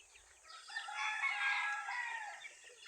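Chickens calling and clucking in a steady, bright cluster, moderately close, with no talking over them.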